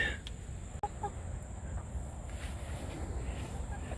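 Chickens cluck softly and intermittently nearby over a steady background hiss, with a brief sharp click partway through.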